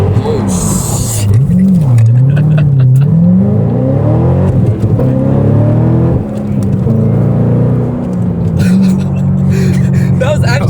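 Straight-piped JDM Corvette sliding and revving: loud, raspy exhaust with a sweeping, wavering engine note as it slides, then repeated revs and a steady drone, close up, with excited voices over it.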